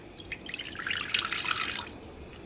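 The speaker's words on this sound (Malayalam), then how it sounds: "ഇതിലേക്ക് നമുക്ക് 1/2 ഗ്ലാസ് വെള്ളം ഒഴിക്കാം." Half a glass of water is poured into a pan being heated on a stove, making a steady close splashing stream of about two seconds that fades at the end, with no voices.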